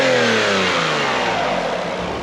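A naturally aspirated 3.2-litre V6 car engine revving loud and close, its raspy, metallic note sweeping downward in pitch as the revs drop, with no talk over it.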